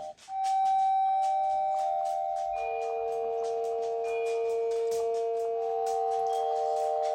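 A Ring Chime Basic doorbell plays its soft Westminster chime, a slow, sustained multi-note melody, each tone ringing out and overlapping against a faint background hiss.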